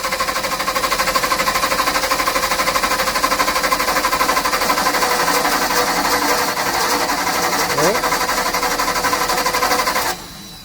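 Kohler LP emergency generator engine cranking with its fuel valve unpowered: a loud, rapid, steady mechanical chugging for about ten seconds, close up, then it drops away.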